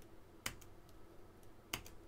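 Two separate, faint clicks from a computer keyboard stand out, roughly a second apart, over a quiet room background with no voices.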